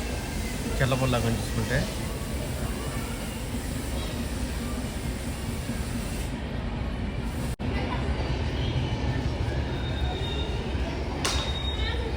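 The Kakinada–Sai Nagar Shirdi Express rolls past without stopping, giving a loud, continuous rumble and rattle of wheels on rails throughout, with a brief voice over the din.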